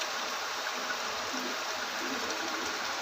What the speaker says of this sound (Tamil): நான் இப்போ தண்ணி எடுத்து எடுத்து நான் அதில் ஊற்றிடுறேன்